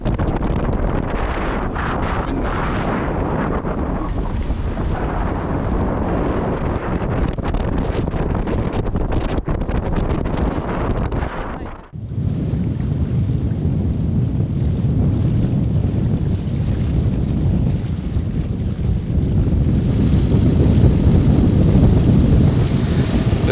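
Sailboat motoring toward the north coast of France, with steady engine and water rush under heavy wind buffeting on the microphone, a brief dropout midway, then continuing broadband wash.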